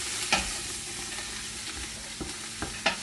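Fried rice ingredients sizzling in a hot pan, a steady crackling fry broken by a few sharp stirring scrapes, close and fairly quiet, with no voices.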